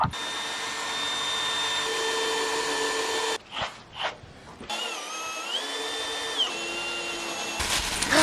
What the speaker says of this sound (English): I'll let Mauro drill those holes.